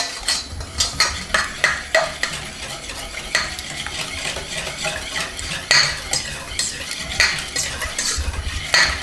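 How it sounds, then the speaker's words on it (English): Buttermilk and vanilla whisked together in a bowl, a rapid run of loud, close clinking strokes of the whisk against the bowl, rhythmic and continuous. "We're going to whisk that together"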